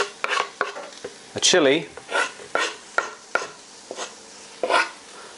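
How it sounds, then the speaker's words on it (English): Turmeric and mixed spices toast in a pan with ginger for a salmon curry: scraping, clinking stirs in irregular bursts over a faint sizzle, with a few spoken words in between. "we'll toast those spices in with the rest of the mixture"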